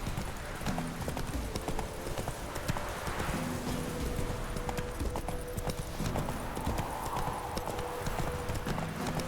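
Horse hooves galloping in The Witcher 3, a fast continuous clip-clop rhythm close by and fairly loud, with faint tack and movement noise throughout.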